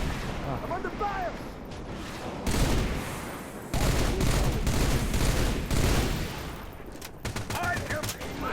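Gunfire in the video game Halo Reach during a solo heroic mission: dense, continuous automatic fire and mechanical clatter in loud sustained stretches separated by brief quieter gaps.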